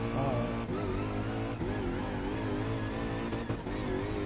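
Jaguar F-Type road car engine in GT Sport: a loud, continuous engine note that rises and falls in pitch with brief dips at gear changes, heard alone without talk.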